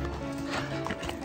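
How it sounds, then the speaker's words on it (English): Horse hooves clip-clop steadily over a broad, noisy background on a Balkan mountain trail, a few close, soft thuds that are partly masked rather than crisp and distinct. "Horse just stepped on my foot."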